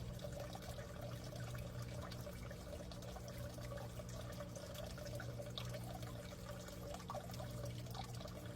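Water draining through a bell siphon in a DIY solar-powered aquaponics setup, a steady continuous rushing gurgle, faint and unbroken with no voices.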